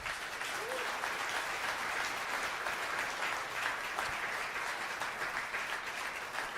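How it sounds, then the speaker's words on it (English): Audience applause fills a Calgary talk event, steady dense clapping throughout at a moderate distance with no break. "please give everyone a big round of applause"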